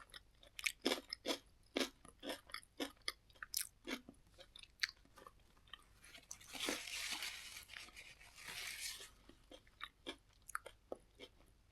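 Someone eats Catalina Crunch cereal up close, each bite a crisp crunch in an uneven chewing rhythm, with a couple of longer, harsher crunching bursts partway through; no speech.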